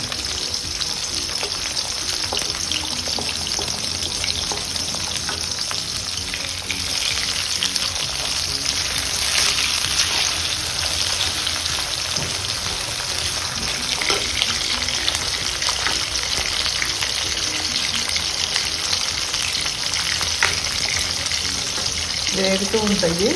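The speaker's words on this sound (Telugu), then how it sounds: "మనం ఈలోపు చిక్కుడు తొక్కలు ఫ్రైకి వేసుకుందాం." Broad bean peels frying in hot oil with urad dal, mustard seeds and cumin, a steady crackling sizzle with occasional pops and stirring scrapes running continuously throughout, no talking.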